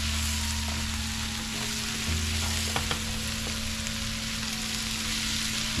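Steady, continuous sizzling of cabbage frying in a pan with chicken, a dense crackling hiss with faint scrapes of stirring and no talking.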